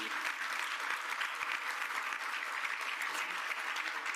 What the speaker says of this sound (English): Let's hear a round of applause for we all will succeed.